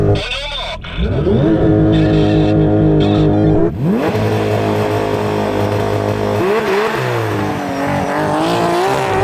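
A stock Porsche GT3 RS and a twin-turbo GT3 RS launch off the line side by side, engines revving hard and climbing through gears in loud overlapping roars, with a gear change and brief dip partway through.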